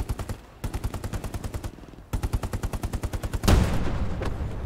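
Machine-gun fire in the World War II video game Hell Let Loose, fast even bursts of shots close and loud, broken by short gaps, ending in a heavy blast with a rumbling tank-like roar.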